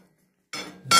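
A metal piece for a potato planter's wheel repair is set down on a table in a workshop, giving two close, bright clanking knocks, the second louder, after a moment of quiet.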